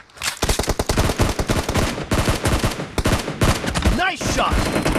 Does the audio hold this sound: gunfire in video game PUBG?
yes